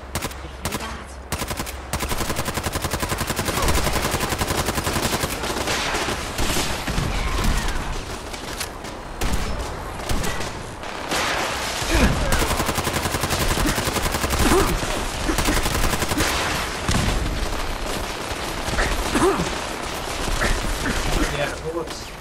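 Sustained automatic gunfire in Fallout 4, long bursts of rapid shots with scattered heavier blasts, loud and near throughout, with some speech-like sounds mixed in.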